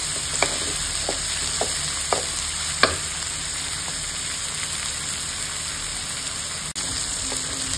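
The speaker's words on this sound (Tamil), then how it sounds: "அதையும் போட்டு நல்லா வதக்கணும்" Crushed garlic and onion sizzle and fry in a hot pan for a Paarai fish coconut curry, with a steady loud hiss and occasional stirring knocks and scrapes.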